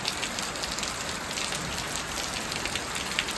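Steady rain pours down, a dense, even hiss of drops hitting surfaces with no voices.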